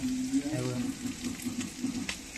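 Murrel fish frying in a pan, a steady low sizzle and bubbling of oil with a faint tonal hum underneath, close and continuous for a couple of seconds.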